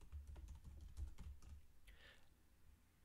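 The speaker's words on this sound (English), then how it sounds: "I'm just going to type in something here." Quick, light keystrokes on a computer keyboard as text is typed into a website headline box, with a close, uneven burst of tapping that fades into quiet room tone.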